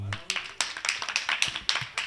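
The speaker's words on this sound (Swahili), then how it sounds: "Pigeni makofi." An audience at a debate claps hands in a quick, uneven burst of sharp slaps lasting about two seconds, fairly close and moderately loud, with a faint voice at the very start.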